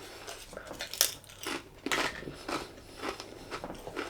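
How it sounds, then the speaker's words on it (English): Poppadoms crunch up close as they are bitten and chewed alongside a curry, a quiet series of sharp, brittle cracks coming in irregular bursts. "Crunch from the poppadoms."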